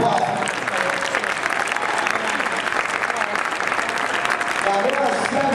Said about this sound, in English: Give these guys a nice round of applause.